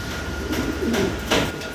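Maltese pigeons in Andalusian colouring coo in low, rolling bursts over about two seconds. A slightly louder coo comes near the end, set against a constant background rumble.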